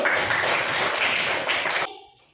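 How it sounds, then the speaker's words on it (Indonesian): Classroom clapping during an Indonesian fifth-grade lesson, a dense burst of hand claps that holds steady and loud for about two seconds, then cuts off sharply into near silence. "Ayo beri tepuk tangan dulu."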